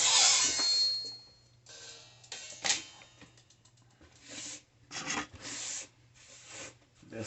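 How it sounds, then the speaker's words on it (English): Hand sanding and grinding on a Star Trek Galaxy-class starship model, with repeated rasping strokes in uneven bursts, close and fairly loud, broken by short pauses over a low steady hum. "This model is making a mess in here. All this grinding and sanding"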